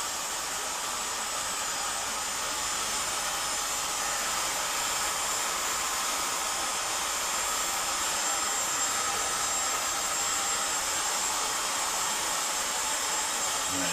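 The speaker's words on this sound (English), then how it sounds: "heat gun on a low setting" Heat gun on a low setting, blowing on a motorcycle's stickers to soften their glue, a steady airy hiss and fan whir held at an even level for the whole stretch with no talk.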